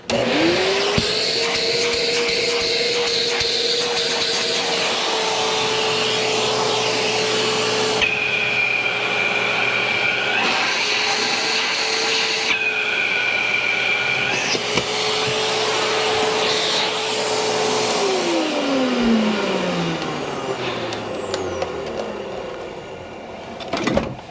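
A 2002 Hoover Windtunnel S3641 canister vacuum cleaner with a clear bag cover drones loudly and steadily up close. Its pitch shifts a few times, and near the end the motor winds down.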